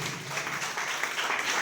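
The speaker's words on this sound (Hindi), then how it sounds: "जोरदार ताली बजाइए।" Church congregation applauding loudly at a Good Friday service led by an archbishop, steady dense clapping sustained throughout without pause.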